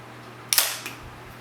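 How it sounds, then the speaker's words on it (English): Single camera shutter firing at 1/500 second, one quick crisp mechanical clack with a faint second click just after, close and isolated against a quiet hum. "You may not have even seen the shutter open and close, but it did."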